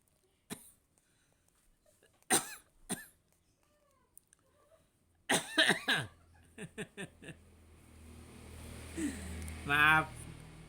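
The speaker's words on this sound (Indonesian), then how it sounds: "penyiarnya sedang batukan." A radio announcer coughs in several sharp bursts, loud and close, with short gaps of quiet and some throat noise and faint chuckling among them; a gravelly, laugh-like sputter near the end.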